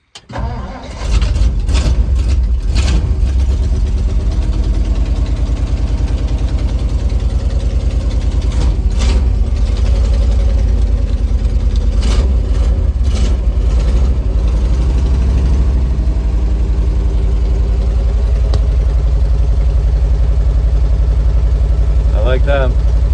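Diesel dump truck engine turning over on a cold start and settling into a steady, loud low rumbling idle that runs throughout, with brief talk near the end.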